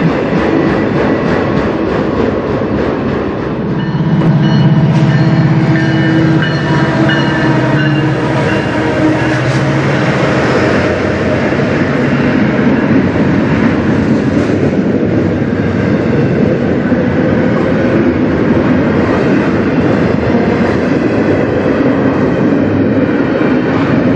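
A CN train passing on the Strathroy Subdivision, a loud, close, steady rumble with clattering wheels over rail joints lasting the whole stretch, with no talking.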